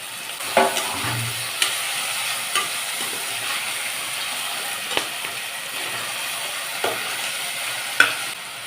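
Onion, ginger-garlic paste and tomatoes frying and being stirred in a pan for egg biryani, a steady close sizzle broken by a few scraping stirs and light clinks of a spoon against the pan.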